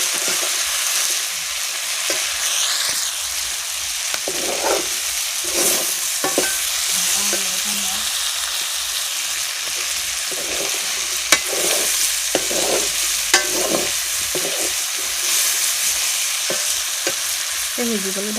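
Curry sizzles in a pan as a spatula stirs it with salt and turmeric, a continuous frying hiss broken by periodic scraping strokes, cooked over a wood fire at home.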